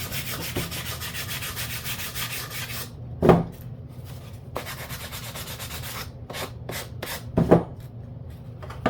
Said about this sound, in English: You just take and basically just sand that edge.